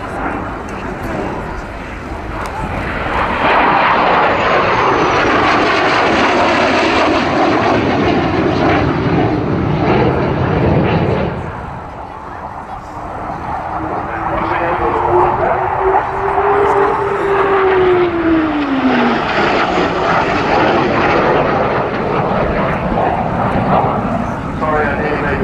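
An English Electric Canberra jet flies past at the RAF Cosford Airshow 2014, a loud, sustained engine roar that swells, dips briefly, then surges again with a rising-and-falling whine as it passes.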